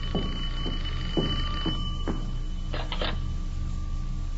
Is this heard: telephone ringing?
yes